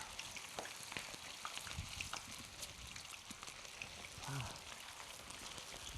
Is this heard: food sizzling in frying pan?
yes